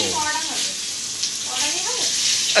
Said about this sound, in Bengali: এখানে বেগুন ভাজা করব